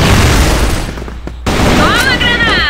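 A grenade bursts in the shooter game CrossFire, a loud sharp blast followed by a sudden drop to near quiet and then renewed gunfire and game noise, with a voice speaking alongside.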